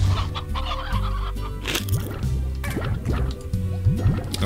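Chickens in the video game Slime Rancher cluck and squawk repeatedly in quick, overlapping bursts, fairly loud and close, mixed with wet dripping, bubbling game sounds and no speech.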